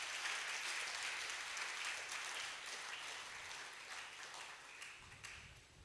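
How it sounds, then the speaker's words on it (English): An audience applauds at a valedictory lecture at The Polytechnic, Ibadan, steady clapping from a crowd sustained for several seconds and fading slightly toward the end. "a round of applause."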